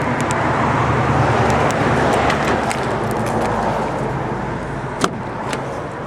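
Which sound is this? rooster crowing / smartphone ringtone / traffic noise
traffic noise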